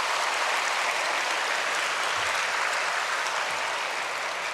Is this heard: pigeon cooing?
no